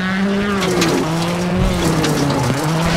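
Skoda rally car engine in the WRC 7 racing game, a loud steady high-revving drone with shifting pitch as the car accelerates and changes gear, continuous throughout with faint tire noise beneath.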